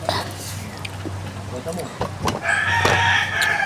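Chickens at a Filipino home cluck and crow near the microphone over a steady low hum, with a rooster's call rising toward the end as people chatter in the background.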